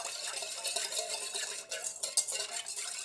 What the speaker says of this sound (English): Then you're going to combine these ingredients until they become thick